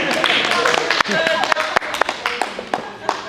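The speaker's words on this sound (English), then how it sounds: "A round of applause" Applause from an evening event audience honoring a judge, a dense patter of claps with sharp louder slaps scattered through, fairly close, with voices mixed in.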